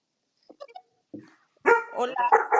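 A small pet dog barks in a few short, sharp yips early on, near and fairly faint, before people start talking over it.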